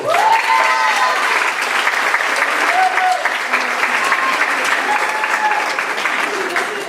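An audience applauds a team member named Carlos with loud, dense, continuous clapping that holds steady for about seven seconds, with a few voices calling out over it.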